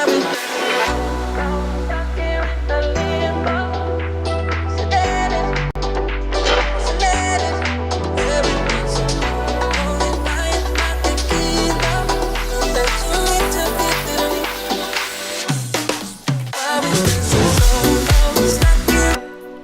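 The break section of a re-edit dance track plays, with dense piano, layered synths and deep sustained bass chords, loud and full, building toward a swelling, noisy rise near the end.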